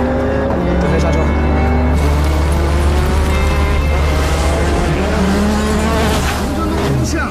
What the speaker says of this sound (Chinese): 准备刹车！